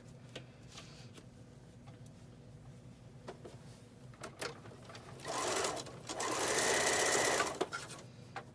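Sewing machine running a straight stitch on a face mask with a removable filter, quiet clicks and taps at first, then a loud close whirring burst of stitching that swells and runs for a couple of seconds before stopping.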